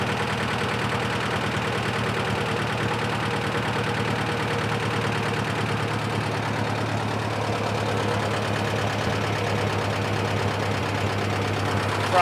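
A 1955 Massey Harris tractor engine idles steadily and loudly up close with a low, even, pulsing rumble and faint knocking, held for the whole stretch, with no voices.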